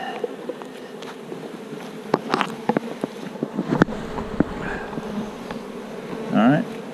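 Honeybees swarm around an open hive during a queen inspection, a close, dense buzz with scattered clicks and knocks from handling the hive.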